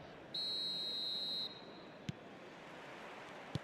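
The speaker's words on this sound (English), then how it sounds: "There's the whistle, and here we go." A referee's whistle in the eFootball 2026 video game blows one long, shrill blast at kickoff of a match set at Old Trafford, Manchester, loud over soft crowd ambience, followed by two brief thuds.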